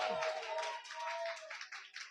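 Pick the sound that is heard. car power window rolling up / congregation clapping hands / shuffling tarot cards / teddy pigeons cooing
congregation clapping hands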